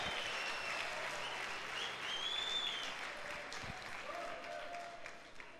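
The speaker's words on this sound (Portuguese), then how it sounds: "Pode aplaudir o Senhor." A church congregation at a Sunday service applauding, a faint, sustained wash of many hands clapping at a distance, with a voice briefly heard under it.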